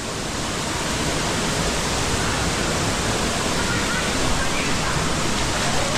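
A waterfall roars as a loud, dense, unbroken rush of falling water, steady and close.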